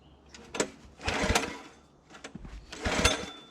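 A small wood splitter engine with a loose, damaged throttle linkage surges in two uneven revving bursts, climbing high then easing, close and moderately loud.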